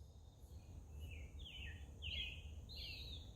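Short, thin whistled bird notes in a quiet outdoor woodland, several brief calls repeating at irregular intervals, faint and distant over low background rumble, consistent with a western wood pewee.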